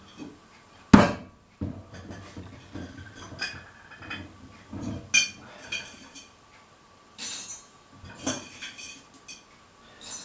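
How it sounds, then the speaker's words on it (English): Irregular clattering and knocking bursts with sharp clinks, close by, like beans rattling through a small grinder in short spurts with pauses between. "excuse the noise because I'm going to be grinding my coffee beans"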